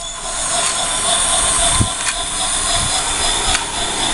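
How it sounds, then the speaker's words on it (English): A long toy train runs along a toy railway, giving a steady close rattling rumble of small wheels on track with a few brief clicks and knocks, and no talk over it. "It's a long train."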